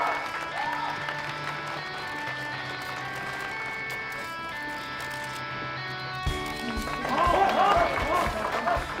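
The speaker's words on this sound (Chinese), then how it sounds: "掌声欢迎" A stage event audience claps and cheers to welcome fifteen beauty influencers. Music plays first, then the applause swells near the end and carries on to the close.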